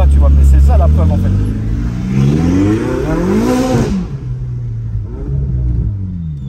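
A Ferrari supercar engine revs hard from close by, rising in pitch to a sharp whistling peak and then easing off, with people talking over it.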